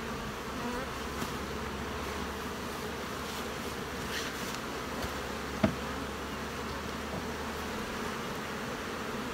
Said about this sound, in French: Puis les grosses abeilles comme celle-là.